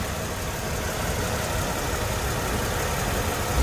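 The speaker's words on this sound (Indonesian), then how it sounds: "ini posisi idle, posisi langsam, sama sekali nggak ada getaran sedikit pun." A car engine idles steadily with no speech, a continuous low, even rumble at constant level with a faint mechanical ticking, on a car with new engine and transmission mounts after a partial engine overhaul.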